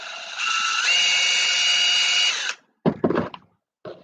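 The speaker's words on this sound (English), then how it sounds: "Drill a hole." A power drill bores a hole near the end of a wooden part on a Sig Kougar model airplane fuselage, whining steadily for about two seconds with a pitch rise as it spins up, then stops; brief handling clatter follows.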